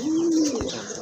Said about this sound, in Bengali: সুন্দর একটা নর কবুতর